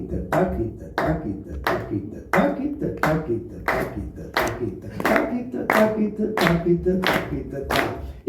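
Hands clap sharply on the first beat of a counted rhythm at a guitar clinic in a music shop, about a dozen evenly spaced claps over a steady spoken count and a sung phrase.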